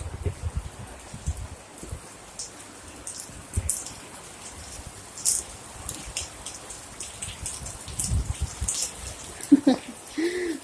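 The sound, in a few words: heavy rain outside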